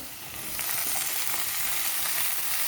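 Onion greens tossed into a pan of potatoes already frying until reddish, sending up a steady, close sizzle that swells after the first half second and holds evenly, with no talking.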